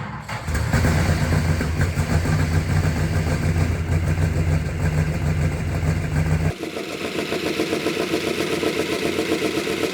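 A 1971 Plymouth Roadrunner V8, long forgotten, idles loud and close, its lumpy rumble steadying and smoothing out before dropping abruptly to a quieter, even idle partway through.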